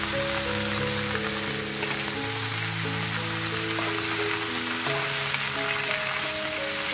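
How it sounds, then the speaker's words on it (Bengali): Gobindobhog rice fries in a pan with steamed banana flower and potato, a soft continuous sizzle beneath sustained background music tones. "এবার আমি চালটার সঙ্গে ভালো করে একটু নেড়ে চেড়ে একটু মানে 2-3 মিনিট একটু ভাজা ভাজা করে নেব"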